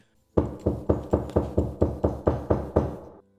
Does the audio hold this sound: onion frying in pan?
no